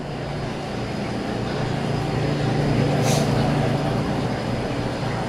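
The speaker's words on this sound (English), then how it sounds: "All right, a little loud back here. The bait tanks are going." Bait tank pumps run steadily at the back of a fishing boat, a loud continuous mechanical drone with a low hum that holds unchanged throughout, with no talking.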